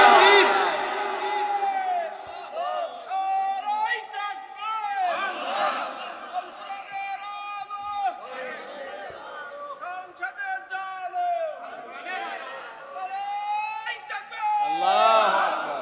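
A large crowd at a night-time Islamic sermon gathering shouts the takbir in repeated, loud, echoing call-and-response waves of massed voices.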